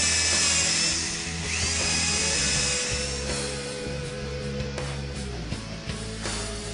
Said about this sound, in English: pre-drill the holes with an 1/8 inch bit